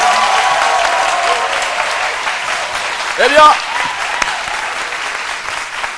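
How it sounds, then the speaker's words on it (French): A TV studio audience applauds loudly and steadily throughout at the close of a French midday show, with a presenter speaking over the clapping. "Merci le public, applaudissez-vous très fort."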